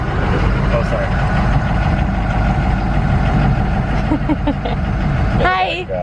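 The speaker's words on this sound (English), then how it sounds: "You can hear over the truck. That's noisy." A truck engine idles loudly and steadily right nearby, a low rumbling drone that lasts the whole stretch, with a brief squeaky rattle close to the end.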